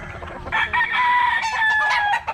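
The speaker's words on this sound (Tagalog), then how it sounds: "Mga manok mga kabaro." Rooster crowing with chickens clucking at a farm in South Cotabato, a drawn-out crow rising and falling over scattered clucks, close and clear with no talking.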